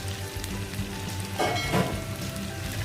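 Sliced celery hits a hot pan for stir-frying, raising a sudden burst of sizzling that swells briefly over a steady background hiss of frying oil.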